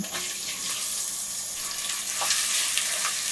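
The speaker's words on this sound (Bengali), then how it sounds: "পেঁয়াজগুলোর জাস্ট কালারটা পরিবর্তন হওয়া পর্যন্ত এগুলোকে একটু ভেজে নিতে হবে।" Chopped onions frying in oil with spices over medium heat, a steady close sizzle with faint stirring scrapes, no voices.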